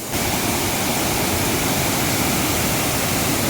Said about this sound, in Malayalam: മരത്തിൻ്റെ ഇടയിൽ കൂടെ വെള്ളം ഒഴുകി പോകുന്നതാണ്